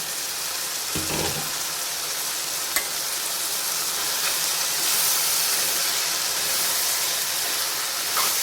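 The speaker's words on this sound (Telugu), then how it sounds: "మంచిగా కలుపుకోవాలి ఇంకొక వన్ మినిట్ అయితే హై ఫ్లేమ్లోనే పెట్టుకుని అయితే కలుపుకోవాలి" Steady sizzling and hissing from bean and tomato curry frying over high heat, with a few faint scrapes of stirring.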